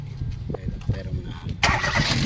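A Kia Rio's engine cranks and catches, settling into a steady running rumble after a short stretch of low mechanical noise, with someone speaking briefly nearby.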